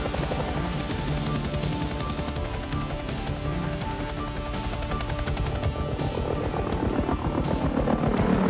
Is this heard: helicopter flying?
yes